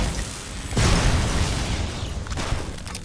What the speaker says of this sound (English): It's just a small explosion.